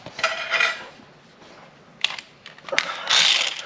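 On a 2022-2023 Kawasaki Ultra 310 jet ski, two 10 mm bolts are undone with a ratchet, giving close metallic clicks and clinks in short bursts, with no voices.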